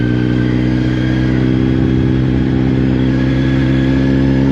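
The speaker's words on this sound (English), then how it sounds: "There's a few cars there." Cars moving past near a security checkpoint at a hotel entrance, a steady close engine drone with a low rumble that swells slightly toward the end, with no talking.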